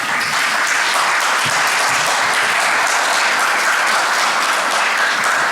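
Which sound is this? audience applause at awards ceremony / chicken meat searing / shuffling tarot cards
audience applause at awards ceremony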